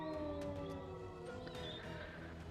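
Eerie creature howls drawn out in long wavering tones, several overlapping voices rising and falling as a sound effect in a tabletop horror role-playing session.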